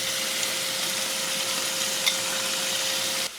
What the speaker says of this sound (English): You can hear it splattering and sizzling